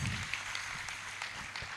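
An audience at a memorial gathering applauds a singer and his accompanying team, a soft, continuous wash of clapping heard from some distance with no talk over it.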